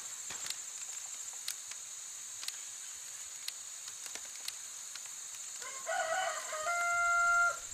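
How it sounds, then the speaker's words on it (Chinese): A rooster crows in a werewolf-style social deduction video game, a synthetic cock-a-doodle-doo rising near the end over a quiet background with a steady high electronic tone and faint clicks. "鸡叫了。"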